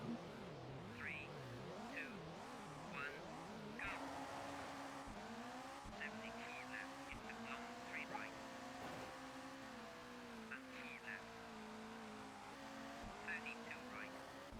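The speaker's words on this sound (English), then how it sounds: "the AI driver has the engine sound of a Corolla" A video game car engine in Colin McRae Rally 2.0, sounding like a Toyota Corolla, drones and shifts pitch steadily as it revs through gears, with faint tire squeals and voices talking over it.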